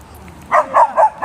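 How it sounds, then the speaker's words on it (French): A dog barks four times in quick succession, close and fairly loud, sharp regular woofs after a moment of quiet. "Il n'y a pas besoin d'aboyer comme ça."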